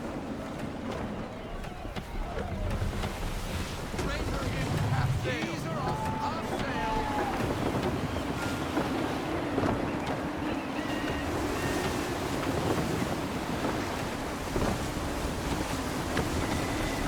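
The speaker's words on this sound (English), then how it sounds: "Gusty winds can be difficult to manage." Gusty wind sweeps over the sea in Assassin's Creed III, a steady roar mixed with surf wash and creaking boat noise. Game dialogue is heard over it throughout.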